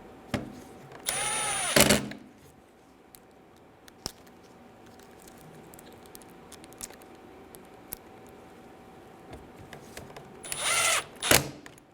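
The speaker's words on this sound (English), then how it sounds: "Go around and install all of the screws." A power drill drives Phillips head screws into the interior door panel of a 2011-2014 Hyundai Sonata, two loud whirring bursts near the start and end with quiet handling noise between.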